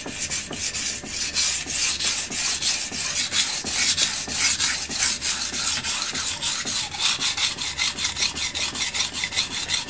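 A VG10 steel knife rasps back and forth on a Suehiro whetstone in quick, regular strokes, about three per second, a close, steady scraping with no talking.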